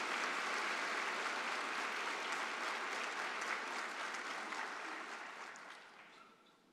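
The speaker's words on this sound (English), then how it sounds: "give a big round of applause to your elders, to your teachers, staff and faculty of SAIT" Sustained applause from a large audience at a SAIT spring 2023 graduation convocation, dense and even before gradually fading toward the end.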